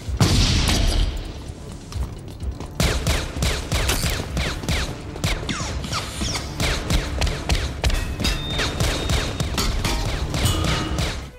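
Intense, continuous gunfire with rapid overlapping shots and heavy booming blasts, loud and chaotic throughout, from a film shootout with the T-1000 near a lift.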